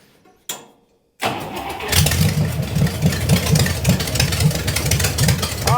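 A vintage dragster's old Buick Nailhead engine cranks with a couple of brief bursts, then catches and settles into a loud, lumpy, pulsing idle close by, with no talk.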